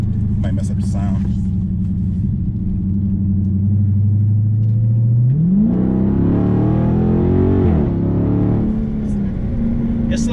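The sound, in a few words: Dodge Charger Scat Pack engine driving in sport mode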